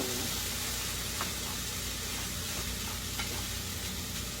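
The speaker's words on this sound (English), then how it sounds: "Keep your fire up hot and stir it." Soy sauce fried rice cooked in a pan without a wok over high heat gives a loud, dense, continuous sizzle that fills the whole stretch, with faint scraping from stirring beneath it.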